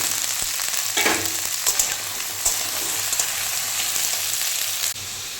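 Papaya and chickpeas fry in hot oil with fenugreek seeds, giving a continuous close sizzle with a few stirring scrapes and clatters, no talking.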